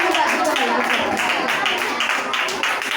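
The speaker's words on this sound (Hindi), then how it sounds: "सभी जोरदार तालियां बजाएंगे" Children at a kids' Bible camp service clap loudly in a steady, dense burst that runs on without a break.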